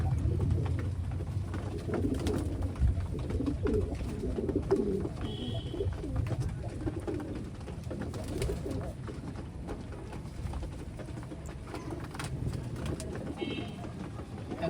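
Pigeons at a Giribaj pigeon farm in Sonamasjid, Rajshahi, some wet from rain, coo in a low continuous murmur, with scattered brief calls over steady background noise.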